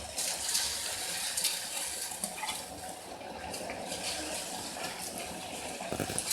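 Sugar water boiling in a cooking pot while making agar (china grass) pudding, a steady, soft bubbling hiss that continues evenly throughout without talk.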